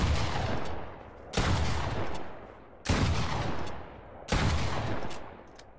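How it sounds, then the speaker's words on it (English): A legendary pump shotgun in Fortnite fires three heavy booming blasts roughly one and a half seconds apart, each fading into a long rumbling tail, with no voices. "New shotgun, guys!"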